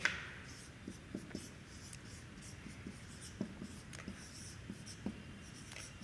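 Pen or marker writing on a board or paper during a physics lesson on electric fields, with soft scratchy strokes and light taps recurring irregularly throughout, fairly faint and close, with no talk.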